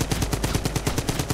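M1941 light machine gun firing in a video game, a fast, even burst of about a dozen loud, close shots in rapid succession.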